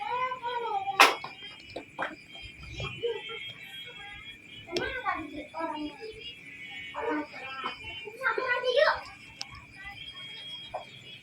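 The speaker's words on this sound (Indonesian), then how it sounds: "Kucing." A cat meows several times at a rural Indonesian family home, short, fairly close calls spread through the clip amid people chatting nearby.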